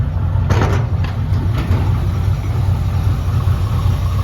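A 1952 Chevy 3100 short-bed truck with a new exhaust idles steadily close by, its low engine rumble even and continuous, with a few faint clicks near the start.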